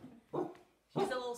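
An older pet dog, suspicious of the camera, barks twice in a house, close and loud, with a short gap between the sharp yips.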